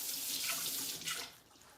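Water from a tap runs onto a wooden fufu stick in a kitchen while cooking Liberian palm butter, a soft, close splashing stream that tapers off near the end.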